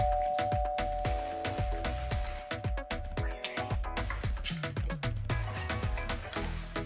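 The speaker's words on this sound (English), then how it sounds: "I hear a doorbell" A repeated chiming tone rings out over and over in a steady rhythm, layered with busy music-like background sound throughout.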